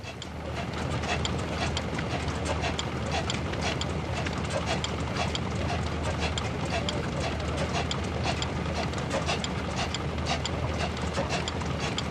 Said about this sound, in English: the engine, which has hot bulb ignition, is more or less a copy of the Blackstone, right down to the Carter's patent governor